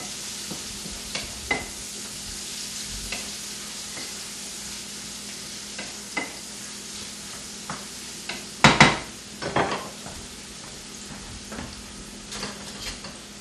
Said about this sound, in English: Give this a little stir again.